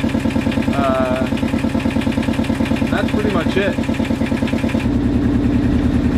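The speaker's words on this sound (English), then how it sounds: "While we're waiting for the engine to get warm enough" A sailboat's inboard engine idles while warming up, a loud, steady, rapid mechanical chugging pulse throughout, with someone talking briefly over it.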